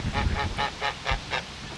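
A goose honks repeatedly by a lake, giving about six evenly spaced nasal calls, close and fairly loud, over outdoor ambience with no talking.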